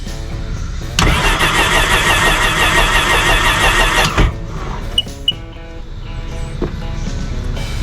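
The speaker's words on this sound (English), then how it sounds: "You want to hold your throttle down all the way, put it in drown mode, so they call it, and you want to give it a crank for a little bit." A Sea-Doo personal watercraft engine cranks over with the throttle held wide open in drown mode, producing a loud, steady whirring churn for about three seconds that then cuts off, followed by a few faint clicks.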